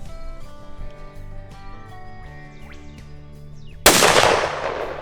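A single loud, close 7mm Rem Mag rifle shot at a rusa deer cracks sharply near the end and trails off into a decaying echo, following a stretch of quieter outdoor background.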